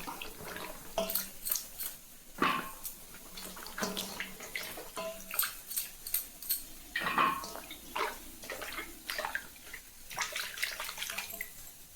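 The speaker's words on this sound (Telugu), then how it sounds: "నీళ్ళు ఇలా మురికి లేకుండా శుభ్రంగా అయ్యేదాకా కూరగాయలు కడగాల్సిందే" Vegetables are rinsed by hand in a basin of water at close range, with repeated sloshing and swishing splashes in uneven bursts and no voices.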